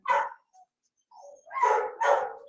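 A dog barks close by, once, then twice more in quick succession after a short pause, loud and sharp with no talking over it.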